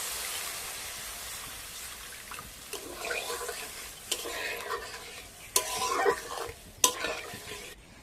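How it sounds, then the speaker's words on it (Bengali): Water poured into a hot pan with tomato sauce, giving a soft hiss and bubbling followed by several spoon stirs and splashy bursts, moderately close. "এবার দিয়ে দিচ্ছি জল।"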